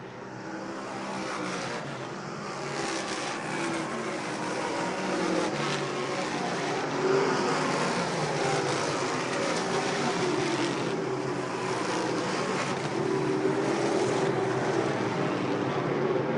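Race cars on a 2013 season-opener oval circuit roar past in a continuous, loud engine drone, with the pitch of passing cars rising and falling over the steady din of the field.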